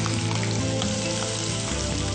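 Onions sizzling in hot oil for a Telugu-style tempering with mustard seeds, urad dal, chana dal, cumin and curry leaves, a loud, dense, continuous frying crackle close up with no talking.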